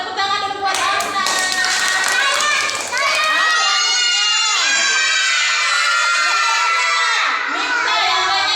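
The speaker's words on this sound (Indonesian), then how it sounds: "Tepuk tangan dulu buat Adnan." Schoolchildren in a classroom clap for a classmate, their brisk clapping mixed with loud, excited shouting and chanting voices that carry through the whole stretch.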